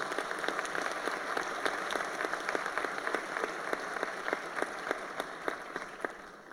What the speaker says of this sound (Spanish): a quienes les pido también un aplauso para ellas